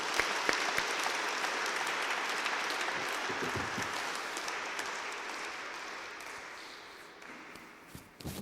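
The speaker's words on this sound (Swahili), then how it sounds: "Tupigie Yesu makofi." A church congregation applauds steadily in praise of Jesus, a dense, even wash of many hands clapping that fades gradually toward the end, with a few louder claps near the close.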